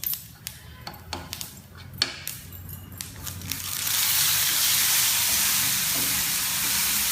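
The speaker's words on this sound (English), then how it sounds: "Add some mustard seeds, cumin seeds, and allow them to crackle." Mustard and cumin seeds crackle in hot oil for a tempering, sharp pops and clinks at first, then a steady, loud frying hiss that swells and holds.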